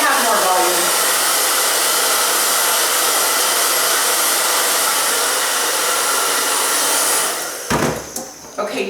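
A hair dryer blows steadily and loudly at close range while drying sectioned hair, a constant rushing roar that cuts off near the end, followed by a few handling knocks.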